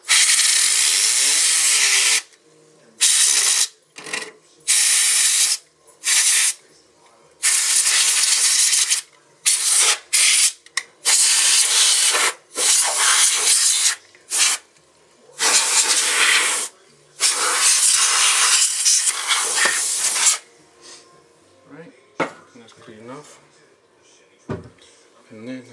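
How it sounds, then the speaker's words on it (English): Canned air sprays clean the water-cooling radiator inside a computer. Loud, close hissing comes in repeated bursts of varied length over about twenty seconds, followed by quieter clicking and handling noises. "I'm gonna clean my radiator"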